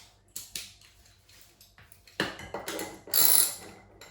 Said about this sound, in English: I would recommend grabbing a ratchet for this one. Maybe with a reach bit.